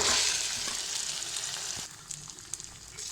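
Potato and chickpea mixture frying in oil-rich spice masala for a Bengali shahi chola bhuna, a steady close sizzle that eases slightly partway through, with a few scraping stir noises and no talk.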